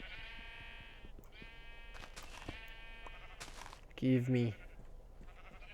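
Sheep in the video game Minecraft let out a short, loud pair of bleats near the end, while a person talks over quiet background sounds.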